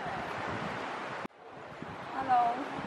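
Wind gusts through a wooded stretch of Beijing Botanical Garden, a steady broadband rush that drops out briefly midway and then builds again, with faint talk in the background.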